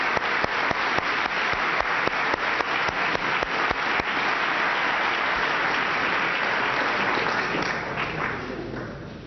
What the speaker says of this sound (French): je vous propose qu'on l'applaudisse pour elle